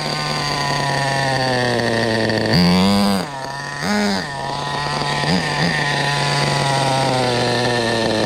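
A Schumacher Havoc 28 big-block nitro RC stunt truck engine idles with a steady, buzzy high-pitched whine, then blips its throttle in two sharp revs and a few smaller ones. The engine plays alone, close by.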